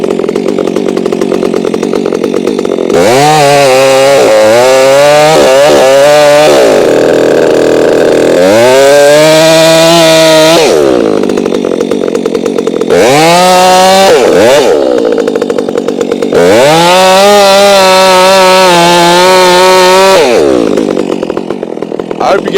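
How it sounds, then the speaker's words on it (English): A Stihl MS362C chainsaw with a long bar cuts through wood, its engine revving up and bogging down in four or five loud, close bursts separated by brief idling. "fire our saw up. I always set my brake. Now, let's go ahead and start cutting."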